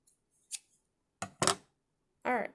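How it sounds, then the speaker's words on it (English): Scissors snipping felt to cut out a circle for a felt cat mask craft: three separate close, crisp cutting bursts, the middle one a quick double snip, with quiet pauses between. "And then just cut around it to make a circle."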